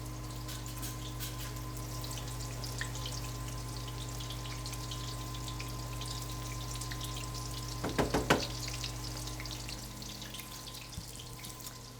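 Chicken parm meatballs frying in a pan give a steady, soft sizzle that runs throughout, with a brief cluster of louder crackles partway through and no talking.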